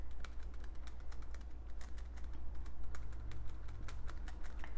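A brush dabs sap green paint over a pine needle mask on paper, giving a quick, irregular run of light, close tapping clicks over a low steady hum.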